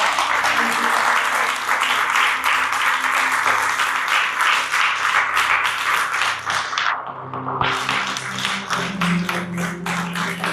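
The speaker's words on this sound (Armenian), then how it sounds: "տուր նրան բարձր ծափահարություն" A church audience gives a long round of applause during an Armenian-language sermon, with dense, continuous clapping that fills the whole stretch, dips briefly and then picks back up.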